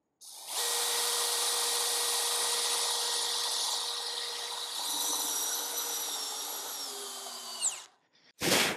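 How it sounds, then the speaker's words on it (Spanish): A DeWalt cordless drill in drill mode at speed 1 whines steadily as it drives a big screw, its pitch sagging under load for several seconds before it stops abruptly, followed by a brief clunk. "DeWalt en modo taladro, velocidad 1, con este mismo tornillo grande."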